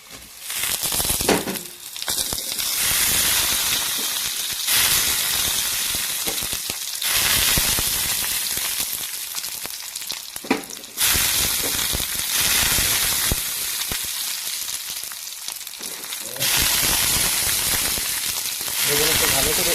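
Fish pieces dropped one by one into hot oil, a loud continuous sizzle and crackle that surges in waves as each piece goes in, with occasional spatters and stirring, no clear talk.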